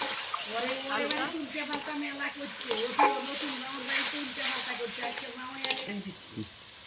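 Ground spice paste of green chilli, ginger, cumin and garlic frying with fried potatoes in a pan for an egg and potato curry, a steady sizzle broken by repeated scraping stirs, with a voice talking over it.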